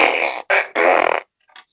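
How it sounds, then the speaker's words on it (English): A fart machine lets out three loud, close, buzzy blasts in quick succession, the last one sputtering and fluttering, then a faint short squeak trails off alone. "a fart machine"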